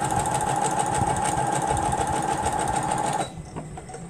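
A home sewing machine stitching quilt pieces runs in a steady, fast, even whir for about three seconds, then stops, leaving a quieter mechanical tail.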